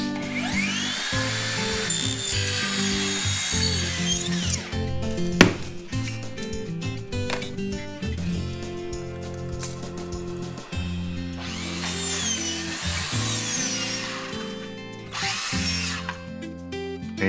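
Power driver sinking screws into hard zelkova wood during carpentry on an alcove, with repeated buzzing runs and stop-start bursts as each screw is driven in stages, loud and close with no talk.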